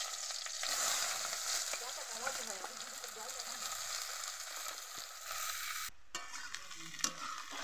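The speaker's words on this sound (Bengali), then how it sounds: "পেঁয়াজটা দিয়ে দিচ্ছি" Onion frying in a pan over a high flame at home, a steady bright sizzle with occasional stirring scrapes, moderately faint and continuous throughout.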